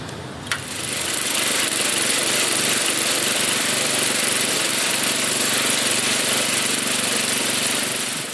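A 1979 Toro 826 snowblower with an 8hp Briggs & Stratton engine runs steadily after a brief click, a loud, close, continuous mechanical drone with no talking.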